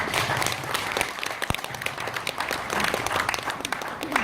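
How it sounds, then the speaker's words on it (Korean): Audience applause fills a year-end concert hall for welfare workers, a dense steady wash of many hands clapping at once, close and loud for the whole stretch, with a brief voice under it. "박수 부탁"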